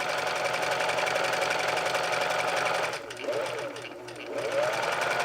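A sewing machine stitches a pillowcase dress, running in a fast, steady mechanical whir with rapid needle clatter, close and loud, pausing briefly near the middle before starting up again.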